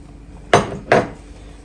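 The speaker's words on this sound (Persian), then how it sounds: "حالا یک لیوان آب جوش بهش اضافه میکنم و خوب همش میزنم." Two sharp metallic clanks of a utensil striking a pan while stirring chicken stew for a Gilan-style dish after boiling water is added, close and distinct, roughly half a second apart over a quiet background.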